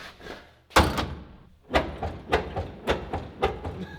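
A truck door in need of repair slams hard once, followed by a series of rhythmic metallic thuds and rattles at a steady pace, fairly close.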